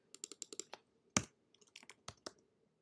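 Keys on a computer keyboard tapped in short quick bursts, several rapid clicks followed by a pause and another scattered run of keystrokes, close and fairly quiet.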